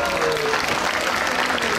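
Audience applause at an autumn community show in Grosuplje as kindergarten children come onto the stage, a steady dense wash of clapping throughout, with some voices mixed in.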